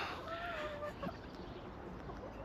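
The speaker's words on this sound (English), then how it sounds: "I brought you back out to our chicken run that we finished to show you the updates, the final product, and show you some of the birds that we have" Chickens, including a Silkie, cluck softly in a finished backyard chicken run on a homestead, with a short high call near the start over quiet, faint outdoor ambience.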